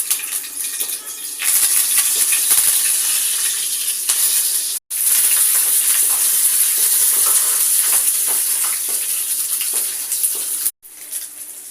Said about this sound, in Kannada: ಸಾಸಿವೆ ಹಾಕ್ತಾ ಇದ್ದೀವಿ, ಎಣ್ಣೆ ಕಾಯ್ದಿದೆ